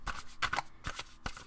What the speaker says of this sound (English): I swear to you guys that I shuffle the cards